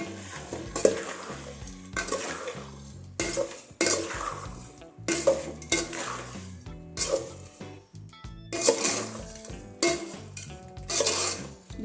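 Rice frying in a pot for bagara rice is stirred with a metal utensil, giving repeated scraping and clanking bursts over a soft sizzle, close and fairly loud, with no talking.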